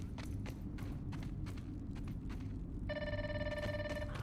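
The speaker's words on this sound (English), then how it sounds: "I hear the phone call" A telephone in the Grounded 2 video game rings with a bright, rapid electronic trill that begins partway through, over a continuous dense game background of rustling and steady soft thumps.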